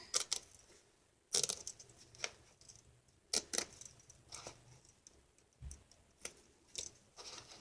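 A nearly spent blade scrapes and cuts through the lining of a purse, giving sharp, irregular clicks and crisp cutting bursts spaced a second or so apart over quiet background.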